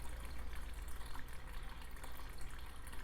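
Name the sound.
water flowing down a waterfall in an Amazon paludarium tank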